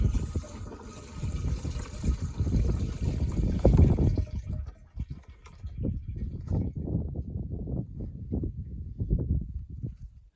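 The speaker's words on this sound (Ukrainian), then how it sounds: "наливаємо частину води в оприскувач." Water is poured into a garden sprayer for a spring orchard treatment, first a steady gushing fill, then uneven splashing glugs after a short break.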